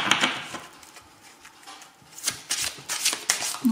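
Oracle cards are shuffled by hand in a quiet room, giving soft papery riffles and slaps in irregular bursts, with a louder, denser run of shuffling toward the end.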